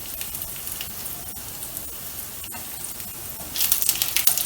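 Cumin seeds crackling in hot oil in a pan with a pinch of hing and chillies, a soft steady sizzle with fine pops that swells louder near the end.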